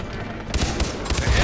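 A quick volley of close gunshots from the Far Cry 3 video game cracks in rapid succession during co-op combat, loud and dense with no pause.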